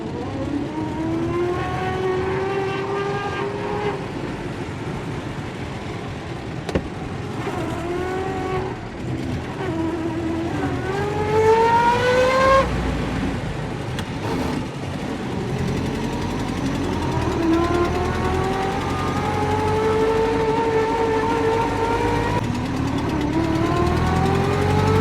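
A rare 1920s vintage car trundling along country roads, its engine droning steadily and close by, with the pitch rising and falling as it accelerates and eases off through the whole stretch.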